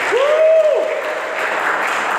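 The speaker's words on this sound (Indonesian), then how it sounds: "Boleh tepuk tangan untuk Tuhan kita Yesus Kristus." A church congregation applauds during a sermon. A rising tonal whoop comes first, then even, hissing clapping continues to the end at moderate loudness.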